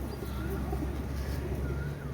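Soft, low cooing from a Pakistani Aliwala 35 pigeon of original bloodline, steady and faint beneath a continuous background hum.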